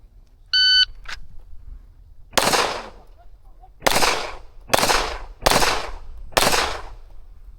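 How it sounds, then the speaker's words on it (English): Five sharp handgun shots fired strong hand only at an IDPA match, evenly spaced about a second apart after a short timer beep and a pause, each crack loud and close with a brief ringing decay. "All right, second string, 5 shots, strong hand only."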